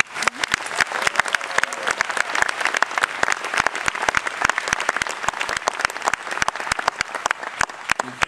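An audience at a 2010 Folsom Lake College commencement applauds to welcome the keynote speaker, with dense, sustained clapping from a large crowd that continues evenly throughout.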